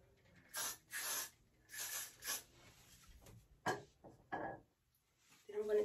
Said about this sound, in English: I'm just gonna put just a little bit of this spray